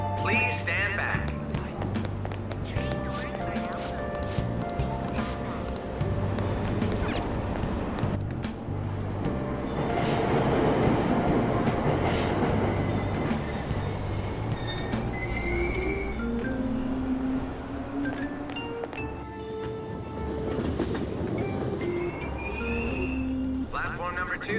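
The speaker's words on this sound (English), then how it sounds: "Train doors are now closing." Subway train in Persona 5 Royal pulling away from a Tokyo station platform, a steady rumble with squealing wheels and rising motor tones over clear station announcements and nearby chatter.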